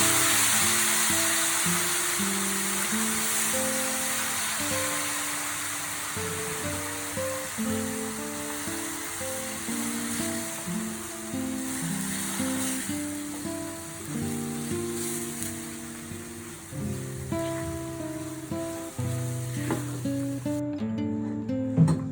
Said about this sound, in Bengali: এখন আমরা দিয়ে দিব 1 কাপ লিকুইড দুধ